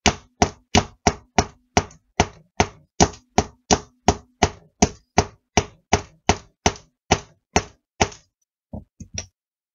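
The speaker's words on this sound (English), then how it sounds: "And once you do that, you can go ahead and hammer some more." Hammer blows on a mouse trap being altered into a Christmas ornament, about twenty sharp, evenly spaced strikes close to the listener, then a short pause and a few lighter final taps, with no talking.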